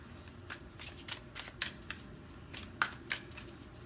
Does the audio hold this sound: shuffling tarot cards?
yes